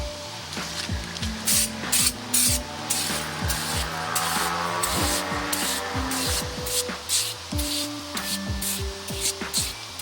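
Cleaner hisses out in repeated short spray bursts onto a rusty, dirty engine manifold pulled from an abandoned Ford F250, close and fairly loud with brief gaps between squirts.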